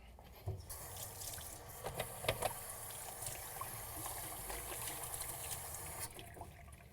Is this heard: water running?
yes